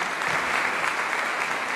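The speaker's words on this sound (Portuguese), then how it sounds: "Vamos aplaudir o nosso Senhor pela vida deles." A church congregation breaks into warm, sustained applause, a dense and even wash of many hands clapping together in a large room.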